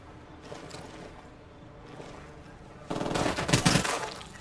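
Machine gun fire in a film, a loud sustained rattling burst erupting near the end after quieter ambient sound.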